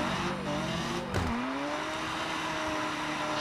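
A BMW drifts in the mobile driving game Car Parking Multiplayer, with a sharp tire squeal that bends and then holds over a steady engine whine and continuous game noise.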